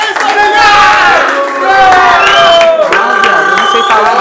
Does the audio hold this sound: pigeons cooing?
no